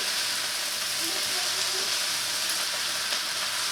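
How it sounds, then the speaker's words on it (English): Honey sriracha chicken and vegetable lo mein stir-frying in a pan, tossed together with tongs, giving a dense, constant sizzle with faint stirring scrapes underneath and quiet speech. "I'm just going to go ahead and mix everything together"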